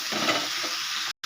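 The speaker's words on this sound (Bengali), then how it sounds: "এবার এটাকে আমি ভালো করে ভেজে নেব।" Mixed vegetables with dried red chilli, whole cumin and chopped onion frying in oil, a soft, even sizzle with light stirring close by, cut by a brief silence near the end.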